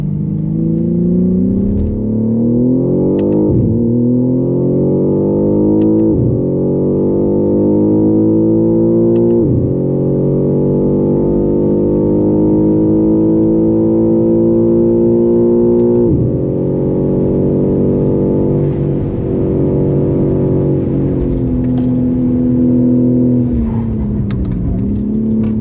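A BMW G81 M3 CS Touring lapping the Nürburgring, its engine loud and close from inside, rising through repeated revving climbs with sharp dips at each gearshift, steady and continuous with no talk.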